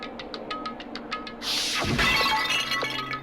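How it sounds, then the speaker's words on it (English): A bottle smashes and glass shatters in the video game Danganronpa: Trigger Happy Havoc, a single loud crash followed by a bright spray of breaking shards, preceded by quiet rhythmic ticking. "I grabbed the Monokuma bottle from the shelf and smashed it across her head."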